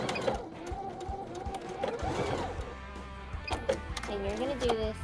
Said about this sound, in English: We fold each one and sew along every row